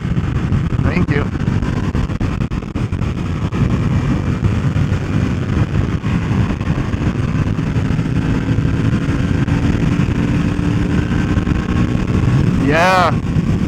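2021 Harley-Davidson Sportster S with its Revolution Max 1250T engine riding at speed, a loud, steady engine roar mixed with heavy wind buffeting, and a brief tonal sweep near the end.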